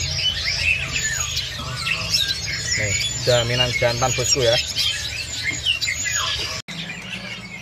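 At a bird market, a black-throat crossbreed songbird gives a quick burst of rapid, chattering squawks mid-way, with other birds chirping around it. Someone talks over the calls.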